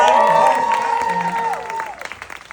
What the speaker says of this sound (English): Let's do another big round of